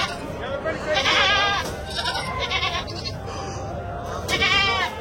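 Goats and sheep bleat in repeated calls at a livestock and ram market in Angallu. The cries are close and loud over a steady crowd murmur.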